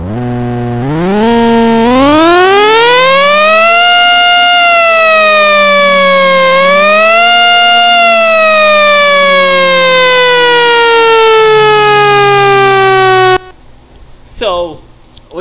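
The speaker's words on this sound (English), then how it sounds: "So I gonna test for all guys what the siren like." A mounted siren in the Roblox game wails loudly and steadily for about thirteen seconds, its pitch rising and falling in long sweeps before cutting off abruptly. A brief faint sound follows in the quiet.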